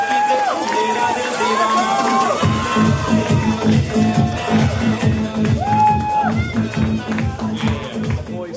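A crowd at a graduation celebration cheers and whoops loudly over rhythmic thumping, the excited shouts rising and falling in waves throughout.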